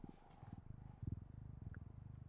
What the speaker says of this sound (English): I wonder if you guys could hear the purring.